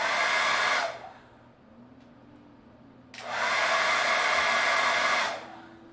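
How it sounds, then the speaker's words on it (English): A hair dryer running off a Jackery HomePower 3000 portable solar generator blows with a loud, steady whoosh, shuts off for a couple of seconds, then runs again before cutting out near the end. "Hair dryer."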